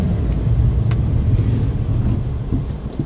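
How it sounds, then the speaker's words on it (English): A Perodua Nippa car rolls and brakes hard on snow, giving a loud, close, steady low rumble of tyres and chassis without any talk. "I'm now going to try and stop as hard as I dare."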